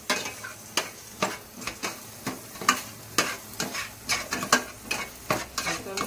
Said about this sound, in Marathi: कांदा पण चांगला मस्त परतून घ्यायचा।